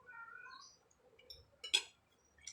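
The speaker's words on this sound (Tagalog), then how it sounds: "Naku po, ang ingay ng pusa sumasalip pa." A cat meows a few times at low volume, fairly distant, with a sharper sound in the middle and quiet background.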